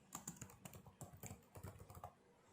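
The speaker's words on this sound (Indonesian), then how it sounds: "di sini saya ketikkan encode" A WiFi network name is typed on a computer keyboard while setting up wireless on a MikroTik router, a brisk run of close, crisp key clicks with no other sound.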